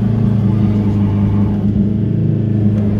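A car sits in place burning its tyres while the engine revs, a loud continuous low rumble with slight fluctuations in pitch throughout.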